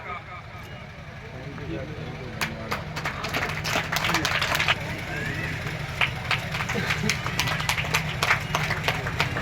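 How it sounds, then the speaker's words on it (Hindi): At an outdoor village gathering in Haryana, an audience claps to welcome a guest, a steady patter of many hands swelling and continuing over crowd babble and talk. "ताली बजाकर स्वागत करेंगे"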